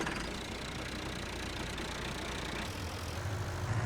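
A tractor engine idles steadily in Farming Simulator 19, a low continuous mechanical drone that holds even and moderately loud throughout, with no voices over it.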